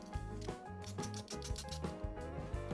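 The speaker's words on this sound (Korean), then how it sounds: "또 사포질 해주고," Repeated rhythmic rubbing strokes of sandpaper on the wood of a miniature cafe model kit, a scratchy back-and-forth rasp with a musical tone underneath.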